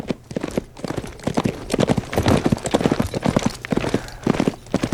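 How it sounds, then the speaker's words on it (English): A horse gallops close by, its hooves clip-clopping in a quick, steady rhythm that fills the whole stretch with no talking. "that's a horse galloping"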